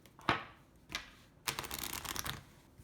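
A new oracle deck is being shuffled by hand, with a couple of short riffling bursts followed by a longer, denser run of soft papery flicks, close and quiet.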